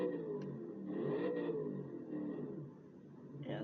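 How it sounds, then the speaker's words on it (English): A front-mounted, naturally aspirated V8 in a British Aston Martin revs in Gran Turismo Sport, its engine note rising and falling steadily at moderate volume for a few seconds. "that beautiful, naturally aspirated V8 engine sitting on the front of this beautiful British car"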